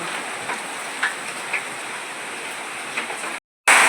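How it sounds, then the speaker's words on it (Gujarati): Steady heavy rain hisses close by with occasional louder drops hitting a surface, then briefly cuts out before returning even louder. "જોઈ શકો છો વરસાદ"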